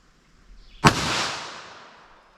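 A single sharp, loud shot from a .22 Magnum short-barrel rifle with a 3-inch barrel, firing Speer Gold Dot rounds into ballistic gel, cracks close by and then rings out in a fading reverberant tail.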